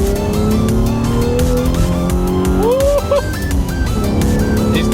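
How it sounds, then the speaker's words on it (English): A car is driven hard through second gear at full throttle on Hankook Ventus S1 Noble2 tires, its loud engine note rising steadily with brief tire chirps, close and continuous for the whole stretch. "Put in second and just floor it."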